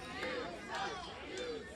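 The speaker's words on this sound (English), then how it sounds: "Jock Samson's got this crowd riled up as always." Wrestling crowd riled up at an OCW Flashpoint show, a steady swell of cheering and shouting voices, heard at a distance and fairly faint.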